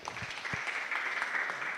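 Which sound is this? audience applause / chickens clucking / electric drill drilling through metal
audience applause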